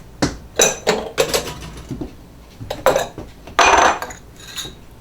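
Homemade spaghetti red sauce is stirred in a metal pot, with a utensil knocking and scraping against the sides in several sharp, irregular clanks and one longer scrape, close and fairly loud, with no talking.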